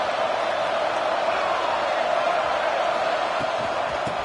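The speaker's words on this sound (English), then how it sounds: "this crowd is fired up. Listen to this noise here." A fired-up football stadium crowd at a Penn State versus Baylor game, a steady roar of many voices sustained throughout at constant loudness, with no single voice standing out.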